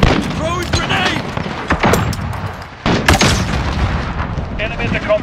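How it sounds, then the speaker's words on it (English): Grenade blast and rattling gunfire in a Call of Duty: Modern Warfare match, loud dense bursts and booms with a sharp explosion near three seconds, mixed with faint game voices. "Throwing grenade!"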